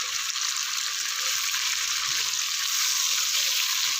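Chopped medium onion hits hot oil in a pot for vegetable pulao, giving a loud, steady hiss of sizzling frying with faint stirring knocks underneath.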